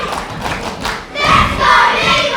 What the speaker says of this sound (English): Listen to this crowd, they are loving their champion.